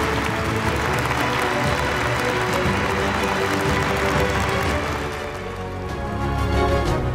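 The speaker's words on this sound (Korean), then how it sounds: "여러분 다시 한번 뜨거운 감사의 박수를 올려주시면 좋겠습니다" An audience applauds continuously, a dense steady clapping that dips briefly and then swells again.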